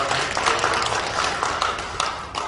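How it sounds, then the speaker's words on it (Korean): A church congregation claps in praise during a New Year celebration service, a short burst of fairly close, brisk clapping with individual claps audible within the mass. "영광의 박수 올려드리겠습니다."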